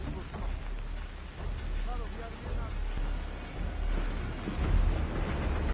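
Rain and thunder in an episode of The Last of Us, a continuous wash of rain on surfaces with low rumbling thunder swelling toward the end.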